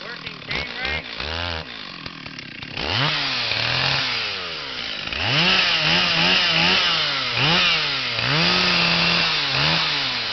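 A ported Stihl 044 chainsaw runs close and loud, idling and then revving in repeated rising and falling bursts.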